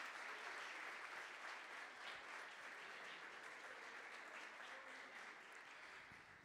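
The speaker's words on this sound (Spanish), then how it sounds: "Fuerte el aplauso de nuevo a los compañeros de Casares." Dense, loud audience applause fills a school event hall for companions from Casares, a steady wash of many hands that holds throughout and eases slightly at the end.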